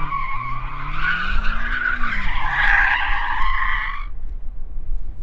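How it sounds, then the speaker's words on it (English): A BMW M5 CS does a tyre-warming burnout before a drag race, its tyres shrieking in a loud, sustained skid for about four seconds over the engine's roar, then fading to engine noise. "before we actually do the race, we need to warm up our tyres, so I'm going to warm mine up first"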